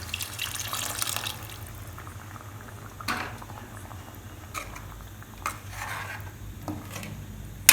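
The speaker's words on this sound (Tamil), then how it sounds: "கொஞ்சமாக தண்ணி ஆட் பண்ணி இதில் ஒட்டியிருக்கிறதையும் நம்ம இதில் ஊற்றிக்கலாம்." Water is poured into a cooking pan to rinse out the yogurt potato curry residue, giving an ongoing close liquid splash and trickle with brief louder bursts and no voices.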